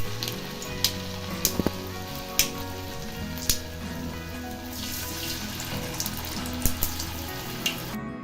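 Alu vadi slices, a Maharashtrian colocasia-leaf snack, fry in hot oil with a steady sizzle, joined by watery splashes and a few sharp clinks and taps near the pan; no voices.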